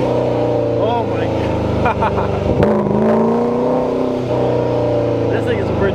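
A 1100 hp Corvette Z06 with a ProCharger supercharger accelerates hard, its engine note climbing and shifting through gears at close range while voices talk excitedly over the roar.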